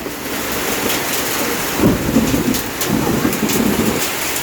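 Heavy rain pounds steadily on a surface while low rumbles of thunder roll through, loud and close, with no voices.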